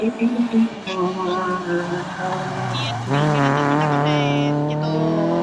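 A rally car pulls away at the start of the first stage of the 5th Rallye de Pontevedra, in Sanxenxo, its engine revving up loud and close with tyre noise. Spectators can be heard around it.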